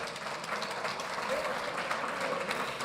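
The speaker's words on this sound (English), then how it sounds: "will you give them a round of applause, please?" Applause for a live band at a gala dinner and awards night: dense, continuous clapping from a sizeable crowd, steady and fairly soft, with voices faintly mixed in.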